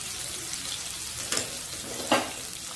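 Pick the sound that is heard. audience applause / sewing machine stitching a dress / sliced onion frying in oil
sliced onion frying in oil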